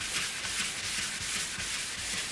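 Steady, even rubbing and scrubbing of Scotch-Brite against a wood finish on a coffee table, a continuous abrasive swishing with a gentle back-and-forth rhythm, close up and alone.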